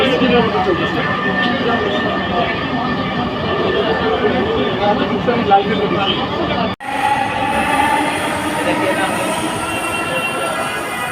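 Dhaka metro rail train running between Uttara and Shahbag, a loud continuous rumble and whine of wheels and motors heard from inside the car, with a brief dropout near the end.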